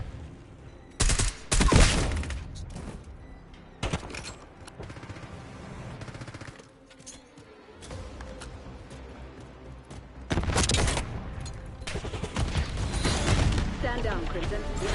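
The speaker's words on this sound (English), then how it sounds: "Concussion grenade out." Gunfire and blasts from Call of Duty Black Ops 6 come in loud bursts separated by quieter stretches, with a concussion grenade explosion among them and voices talking over the action.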